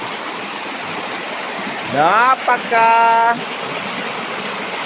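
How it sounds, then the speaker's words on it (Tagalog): River water flows steadily at Calubian Falls, a constant rushing wash heard throughout, with someone speaking briefly over it. "Tingnan nyo yung daloy ng tubig."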